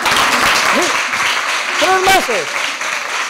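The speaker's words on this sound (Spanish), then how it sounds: "¡Oye, un aplausote!" Audience applause at a televised dance show, a burst of clapping mixed with loud speech over it throughout.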